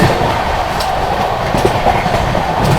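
The Vikramshila Express, Anand Vihar to Bhagalpur, runs at speed, heard from inside as a loud, steady roar of wheels on rails with faint rhythmic clatter throughout.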